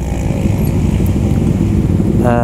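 Several motorcycles, a group of about twelve out on a Sunday morning ride in Makassar, Indonesia, rumble steadily together at close range, with a continuous loud engine drone and a rising whine near the end.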